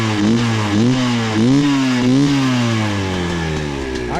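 A GPX TSE 300R dirt bike engine runs slightly rich, idling unevenly with a few light revs that rise and fall, close and steady, no voices.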